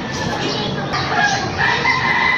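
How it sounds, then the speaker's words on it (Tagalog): Several roosters crow over one another in a dense chorus, loud and close, with clucking chickens mixed in. "Daming manok na tumitilaok."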